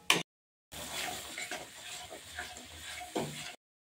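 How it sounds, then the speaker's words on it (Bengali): Ground spice paste is stir-fried in a pan, giving a faint sizzle with scraping and stirring strokes in short bursts, broken by brief silent gaps at the start and end. "এবার আমি মশলাটা কষাতে থাকবো যতক্ষণ না মশলাটা ভাজা হয়"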